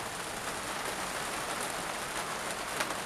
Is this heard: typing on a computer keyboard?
no